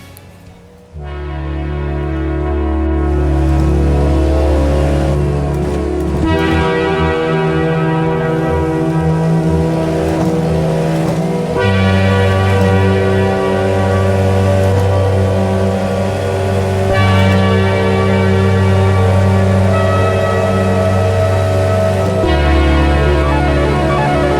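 A race car in the iRacing simulator runs the final sector at Le Mans, a loud steady engine drone whose pitch steps at each gear change. It plays alone with no talking.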